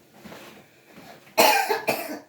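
Two sharp, harsh coughs close by, the first louder, following a quiet stretch of faint background noise.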